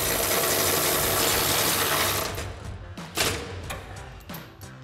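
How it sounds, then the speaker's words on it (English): A hand ratchet with an 18 mm socket tightens bumper support bolts on a 2019-2021 Chevrolet Silverado 1500, giving a loud, close burst of rapid clicking that breaks into a few separate clicks. "tighten them down using our 18 millimeter socket on our ratchet"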